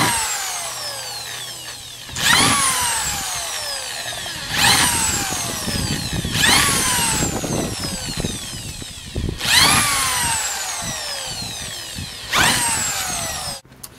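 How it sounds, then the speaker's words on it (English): A power drill bores holes into a plastic Earthbox container: five loud bursts, each a high whine that rises, cuts through the plastic with gritty grinding, then winds down, separated by short pauses. "Just drill it as, you know, as close as you can, as straight as you can, as many as you can."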